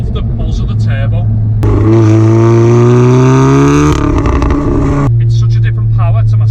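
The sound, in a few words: VW Golf R stage 3 accelerating with turbo buzz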